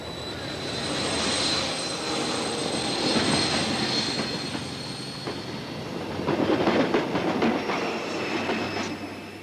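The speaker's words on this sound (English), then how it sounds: "The train departed without him." A train rumbles steadily nearby, with rattling and clattering bursts building toward the end as it gets moving.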